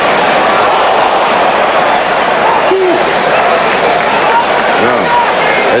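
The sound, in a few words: stadium crowd reacting to a replay on the big screen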